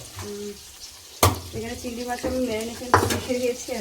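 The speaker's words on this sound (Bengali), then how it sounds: "বর্ণা দেখো ভাজতে বসিয়ে দিয়ে গেছে আর এদিকে চিকেন হচ্ছে ইয়ে হচ্ছে ভাজা হচ্ছে" Chicken fries in a pan with a soft sizzle, interrupted by sharp clanks of a utensil against the pan and faint voices in the background.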